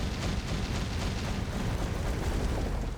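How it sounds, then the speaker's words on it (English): A long explosion in the video game Hollow Knight: Silksong, a steady, loud rumbling blast that fills the whole stretch without a break and no talk over it. "How far of an explosion? Okay, it does go pretty far."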